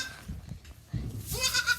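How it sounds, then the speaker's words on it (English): A sheep or baby goat bleats on a farm. A single wavering call rises near the end over quieter low rustling and background sounds at the start. "So we have our sheep."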